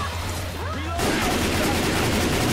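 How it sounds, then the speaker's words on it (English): Gunfire in the video game Hard Rain at Milltown and the sugar mill, a loud, continuous fusillade of shots that erupts about a second in and keeps going without pause. "I guess we'll just sit here and keep firing."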